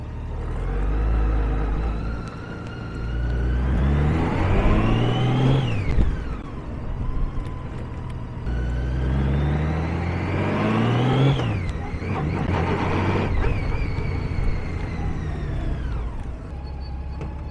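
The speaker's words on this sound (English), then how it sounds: "So now I'm just gonna go up and down the lot here, just showing you how well this thing shifts through the gears." A 2006 Honda GL1800 Roadsmith HTS1800 trike rides across a lot, its engine revving up in two long climbs, dropping sharply at each gear shift and climbing again. The sound is steady and close, with no talk.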